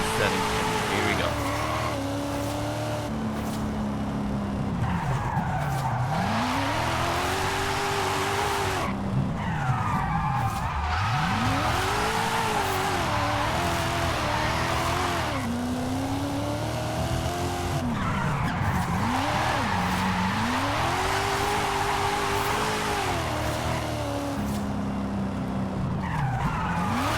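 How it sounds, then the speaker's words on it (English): Car drifting in Forza Horizon 5, driven with a Fanatec CSL DD wheel: loud, continuous engine revs that rise and fall with sustained tire squeal through long slides, close and steady throughout. "I'm going to be quiet for a minute and drift along to show you what this car can do"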